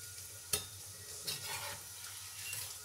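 Potato chicken donuts fry in oil with a quiet, even sizzle. A few light utensil taps and stirring scrapes break through now and then.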